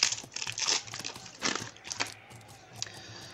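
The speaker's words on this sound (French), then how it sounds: "on va ouvrir les paquets" Plastic wrapping crinkles and tears as card packs for a Western Legends board game expansion are opened, a run of close crackling bursts that thins out toward the end.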